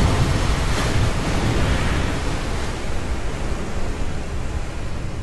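Water splashdown in Kerbal Space Program, a loud continuous roar of rushing water and wind-like noise that swells early and holds steady throughout, with no talk.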